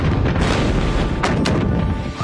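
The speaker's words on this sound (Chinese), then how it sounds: "虽然火箭弹精准命中并发生了爆炸" Anti-armour rocket warhead exploding against a parked car, heard as a loud, broad roaring blast followed by a couple of sharp cracking bursts as debris and echo die away.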